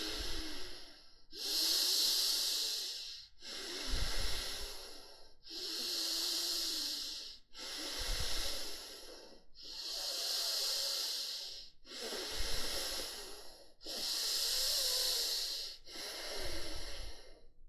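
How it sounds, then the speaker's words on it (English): Slow, deep meditation breathing as the belly expands and squeezes: about eight long, airy breaths, each a few seconds, heard close and alone with short pauses between. "every breath it goes in, you expand your belly, and every breath it comes out, you squeeze your belly"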